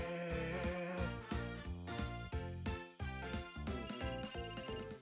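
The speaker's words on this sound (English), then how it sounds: "Phone's ringing." In the video game Another Code: Recollection, a phone rings with a loud, looping melodic ringtone, steady rhythmic pulses that repeat across the whole stretch with no voices over it.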